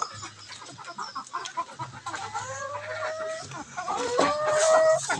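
Several chickens cluck and squawk close by in a busy, overlapping chorus at an early-morning feeding by their coop, with a few louder drawn-out calls toward the end.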